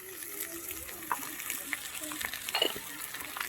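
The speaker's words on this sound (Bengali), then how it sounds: "বেগুনটা ভেজে নিচ্ছি" Chunks of eggplant frying in oil for a Bengali fish curry, with a soft continuous sizzle broken by occasional stirring clinks and scrapes, moderately quiet and close.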